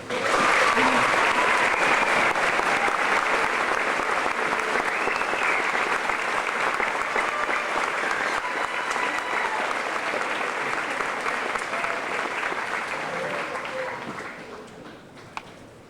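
Eighth-grade graduation audience applauds the salutatorian, a long, dense, even roar of clapping that starts strong, holds for about fourteen seconds, then tapers off and stops.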